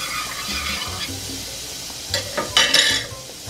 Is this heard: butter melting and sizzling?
yes